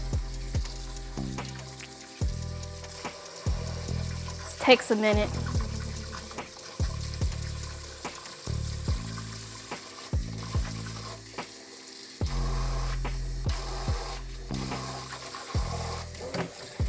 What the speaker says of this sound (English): next we're gonna just fill the pot up with some water